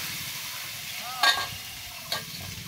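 Potatoes frying in mustard oil in a pan, with a steady low sizzle broken by two brief scraping stirs of a spatula, close and fairly quiet.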